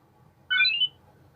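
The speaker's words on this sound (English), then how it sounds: "Was that the fire alarm?" A short electronic alarm tone sounds once in a school, a bright ringing burst lasting under half a second against near silence.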